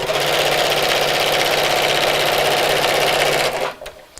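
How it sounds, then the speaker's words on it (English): A sewing machine stitching a seam through fleece for a Christmas bag, a loud rapid mechanical whirring run for about three and a half seconds before stopping abruptly. "as you're sewing over fleece like this, or any kind of wadding actually"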